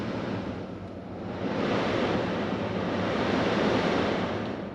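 A Jeep's climate control fan kicks on: a steady whooshing rush of air grows a bit louder and holds as a broad, even hiss.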